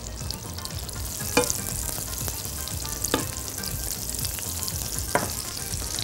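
Peaches sizzle steadily in melted butter in a very hot pan, a continuous close frying hiss with a few sharper crackles and small clinks of a utensil, no voices.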